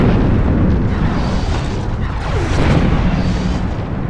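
A deep, rumbling explosion as an enemy squadron is destroyed in the space combat game Nexus: The Jupiter Incident, loud and sustained with rolling low booms and no voices.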